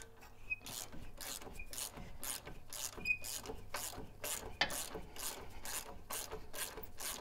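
A hand ratchet loosens the 17 mm brake caliper bolts on a 100 Series Land Cruiser or LX470, giving close, rhythmic bursts of sharp clicking strokes repeated steadily throughout.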